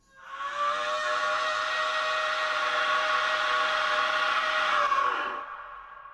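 Crazy rock and roll scream in a music track, one long loud sustained vocal wail with a harsh, siren-like tone, held for about five seconds before cutting off.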